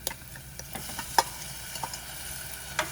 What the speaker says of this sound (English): Now that the onion mixture is sauteed, we're going to put in the ginger garlic paste.